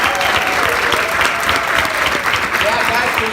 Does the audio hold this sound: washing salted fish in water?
no